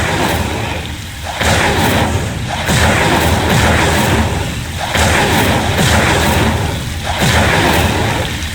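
Incendio fire spells are cast again and again in Hogwarts Legacy. Each one is a loud, booming burst, and they come roughly every two seconds over a dense rumble.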